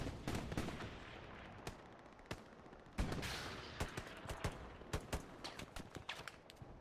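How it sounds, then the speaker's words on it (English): Gunfire crackles through a Hell Let Loose World War II battle at Elsenborn Ridge: dense, irregular rifle and machine-gun shots, some sharp and close, others distant, with scattered louder cracks and no talk. "Return fire from Wires and Fisherholic and Ghost, maybe?"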